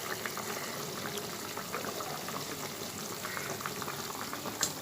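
A thin pomfret fish curry made with gathi bubbles gently in a pot, a soft, continuous boiling fizz with scattered small pops, quiet and close.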